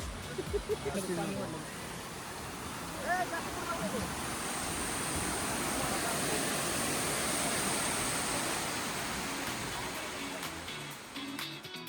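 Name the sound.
Rautwadi waterfall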